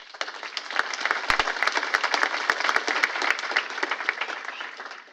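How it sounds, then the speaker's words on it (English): Conference audience at DevOpsDays Boston applauding the next speaker, sustained dense clapping from a room of people with sharp individual claps standing out, easing off at the end. "Can you all give him a big round of applause?"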